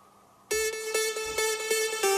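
A short saw synth plug-in line with a filter opening upward bursts in after a quiet half second. It plays a bright, buzzy repeated-note pattern with steady pulses and grows brighter toward the end, with no talking.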